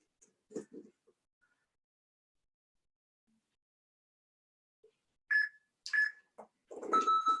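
A few short electronic Pilates exercise timer beeps sound close by after a stretch of near silence, with a brief faint rustle earlier.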